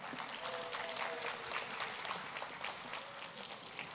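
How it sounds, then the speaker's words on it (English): Faint, continuous clapping from an audience at a school district's State of the District event, a dense patter of many hands sustained evenly and fairly distant. "So one round of applause for Fernando Ledesma parents."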